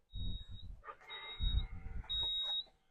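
The power-folding rear seat mechanism of a 2024 Range Rover Sport P530 First Edition whirs with a low motor hum, while a steady high electronic beep sounds in two stretches, close and quiet.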